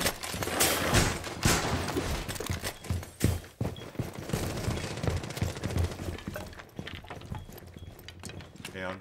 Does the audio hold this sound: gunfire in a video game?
yes